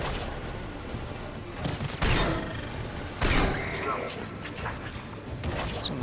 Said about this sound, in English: It's a nice little hand cannon